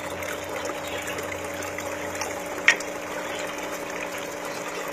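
Water trickles steadily from an artificial garden waterfall at a home or business in Santa Felicidade, a continuous soft wash with one brief sharper splash partway through and no voices.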